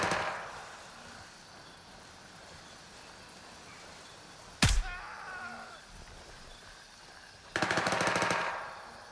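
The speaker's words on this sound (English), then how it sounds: "They all shoot." Gunfire in a video game: a single sharp, loud shot midway, then a later rapid automatic burst, with a quiet ambient background between them.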